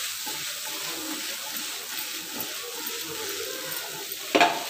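Raw banana pieces with asafoetida sizzle steadily in a hot pan while being stirred, making a continuous close frying hiss and ending in a brief scrape of the spoon.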